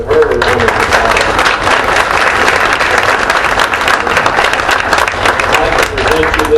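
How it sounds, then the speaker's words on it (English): Loud, sustained applause from an audience at a Fort Myers city council meeting, dense clapping filling the room without a break, with a faint voice briefly audible near the end. "So let's give her a round of applause."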